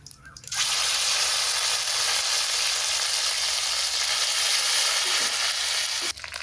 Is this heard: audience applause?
no